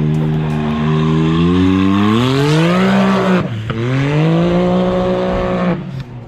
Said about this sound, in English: And CJ's gonna go test this car out.